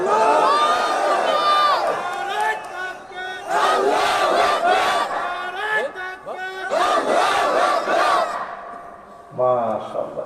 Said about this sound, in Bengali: এবার একটা তাকবীর দেন